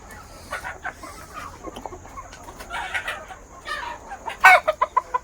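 Country chickens on a poultry farm in the evening cluck and cackle nearby in irregular bursts, ending in a loud run of sharp, rhythmic squawks, with no talking.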